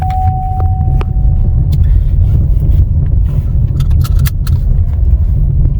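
A GM car with a 6T40 automatic transmission and a stalling-at-stop fault under way, heard from inside as a loud, constant engine and road rumble with scattered light clicks and rattles.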